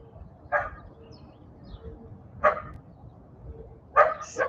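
A neighbor's dog barks three times outdoors at a moderate distance, with single sharp barks spaced a couple of seconds apart over quiet background noise.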